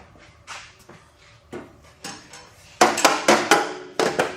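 A series of sharp hammer blows on an old Kubota tractor stuck in gear, sparse at first then louder and more regular, with metallic knocks close by.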